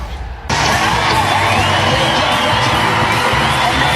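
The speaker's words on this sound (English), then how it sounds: "Crowd still filing in to Devon Park. It's already a juiced atmosphere." A stadium crowd at a Women's College World Series softball game between UCLA and Oklahoma swells into a loud, sustained roar of cheering and whoops after a brief quieter start.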